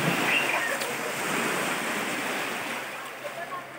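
Ocean waves wash in a steady, broad rush of surf, loud and close, with a gusty roar throughout.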